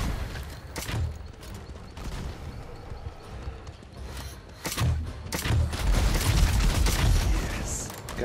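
Rapid gunfire in the game Nosgoth, repeated sharp shots and thumps amid a busy, chaotic fight, growing denser and louder toward the end.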